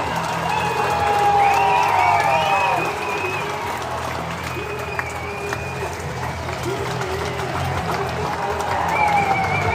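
Stadium crowd at the Tassie Devils' first ever home game, a broad continuous roar with scattered cheers and whistles, steady and loud throughout, with voices calling out amid the din.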